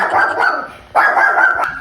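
A dog barks in close, loud bursts around a house, two sustained runs of barking split by a brief pause, with no talk.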